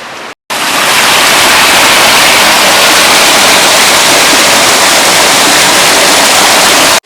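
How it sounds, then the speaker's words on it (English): Small cascades tumble along the shore of McCraney Lake in Algonquin, producing a loud, steady rushing wash of water that continues unbroken after a brief gap at the start. "These are tiny cascades, and they are very pretty."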